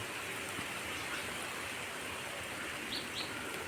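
Dense, steady rain pours down in a constant hiss, with a couple of faint bird chirps briefly audible near the end.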